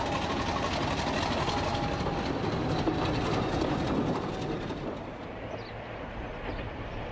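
A classic diesel locomotive rolls along a British mainline railway, its engine drone and wheel clatter loud and steady before easing and fading slightly toward the end.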